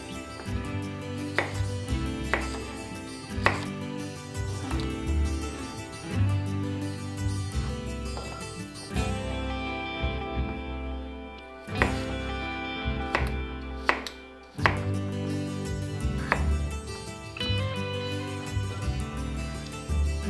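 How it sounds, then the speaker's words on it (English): A knife chops apple into bite-sized pieces, giving repeated knocks on a board, irregular and close, over busy background music. "And we're gonna chop this up."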